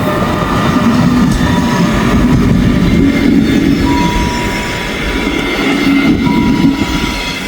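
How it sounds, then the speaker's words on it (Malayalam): A train rolls slowly past a railway crossing in Germany during heavy snow, a loud, close, continuous rumble with rail rattle and faint wheel squeals that holds steady throughout. "പറഞ്ഞ പോലെ ഒരു ട്രെയിൻ വരുന്നുണ്ട്."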